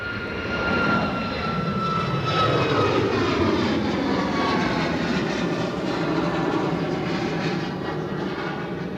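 A British Airways jet moves at Edinburgh Airport, its engines giving a steady, loud roar with a faint whine on top that holds for the whole stretch, with no voices over it.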